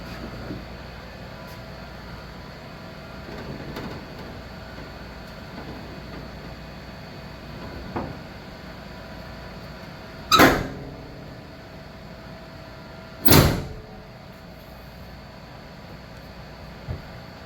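Hood of a 1959 Pontiac slammed shut twice, two sharp loud metallic thuds a few seconds apart over a quiet background hum.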